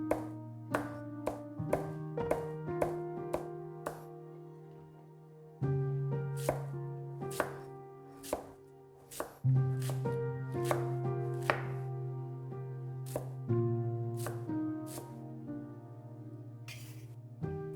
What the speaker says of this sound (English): Cabbage is chopped